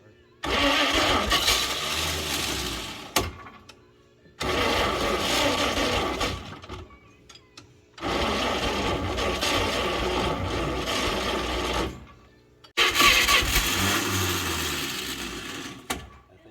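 A 1938 Chevy Master Deluxe, sitting unused since the 1970s and fitted with a Ford starter, cranks in four long loud bursts separated by short pauses, with the starter whirring and grinding and the engine not catching.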